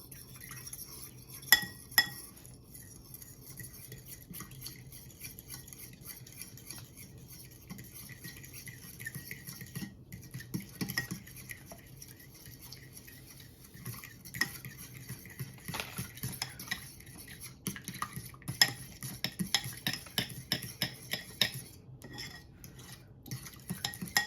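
Spoon clinks and stirs through a bowl of homemade sausage mixture as gelatin is worked in, producing a steady run of small, close taps and scrapes over about twenty-four seconds with no talk.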